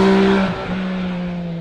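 An MV Agusta Brutale Dragster RR motorcycle engine revs loudly and close, a steady high-pitched drone that dips briefly and then holds a sustained tone, with no talk.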